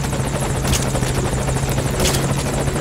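A helicopter in the video game Metal Gear Solid V: Ground Zeroes drones steadily nearby, its rotor throbbing continuously with a buzzing engine hum and no voices over it.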